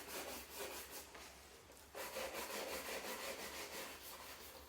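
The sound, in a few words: shoe brush polishing leather shoes back and forth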